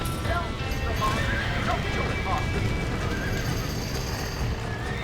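Horses whinny and hooves clip-clop at a ranch in the video game Red Dead Redemption, with a neigh near the start over a steady din of game ambience and voices.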